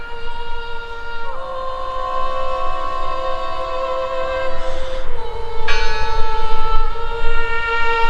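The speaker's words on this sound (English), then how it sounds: "I heard the bell." A church bell in the video game Draugen rings out loud and sustained, its long humming tones shifting pitch with fresh strikes, alone against a low rumbling background.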